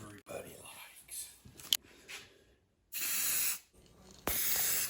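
Spray gun misting lacquer onto sanded wooden box parts in a woodworking shop, two steady close hissing passes of a few seconds each, following softer shuffling and brief handling noises.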